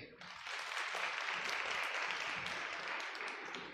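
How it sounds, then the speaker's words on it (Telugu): Applause from a church congregation during a Telugu sermon, a steady broad wash of clapping that swells quickly and holds at moderate level throughout. "చప్పట్లు కొట్టండి."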